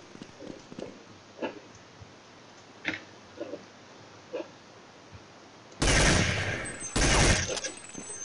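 Counter-Strike 1.6 gunfire: sparse faint single shots through the first half, then two loud, sustained bursts of automatic fire close up near the end, with no talk.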